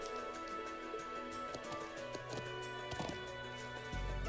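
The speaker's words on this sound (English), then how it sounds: "Mint's riding a horse across the highlands." A horse gallops across the highlands in Trails of Cold Steel 2, its hooves giving a steady clip-clop rhythm of soft thuds under droning game music that swells again at the close.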